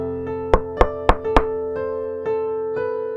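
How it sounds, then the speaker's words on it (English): Four sharp, evenly spaced knocks on a door ring out loud and close over a sustained musical tone, followed by a couple of softer thuds. "Dag knocks on Garn's door."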